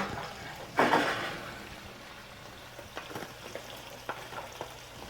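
Cooked bacon tossed into carbonara pasta in a pan: a short burst of soft sizzle and stirring rustle, then quieter scattered scrapes and clicks of the pan.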